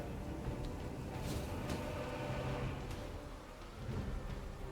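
Wind, rain and thunder from a stormy scene in the video game Genshin Impact form a steady, dense wash of rain and wind, with rumbling thunder swelling near the end.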